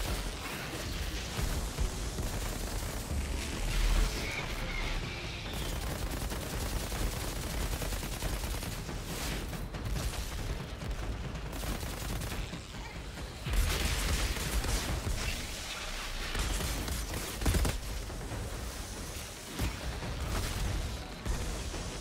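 Assault rifle fire in the video game Outriders, rapid repeated bursts of shots mixed with mechanical clatter and impacts, loud and continuous with brief lulls.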